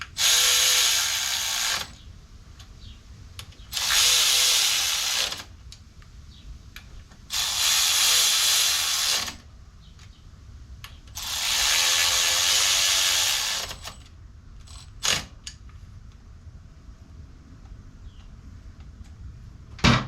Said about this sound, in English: when you tighten it down, you do a little bit of a star pattern